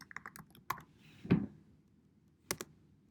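Someone types on a computer keyboard while searching real estate listings in software. A few sparse, soft key clicks come close and quiet, with one sharper tap near the middle and a short burst toward the end.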